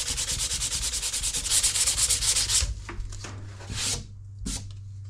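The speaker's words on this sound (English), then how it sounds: "you can go ahead and sand it down if you want to" Abrasive sanding of plasterboard around a wall fixing, a steady close rasping scrub for nearly three seconds, then a few shorter rubbing strokes with pauses between them.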